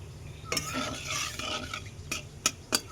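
Whole cumin seeds dropped into hot oil on a gas stove, a quick crackling sizzle with a few sharp spoon-against-pan clinks, close and fairly quiet.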